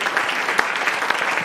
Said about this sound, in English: One more round of applause for yourselves for coming out tonight and supporting music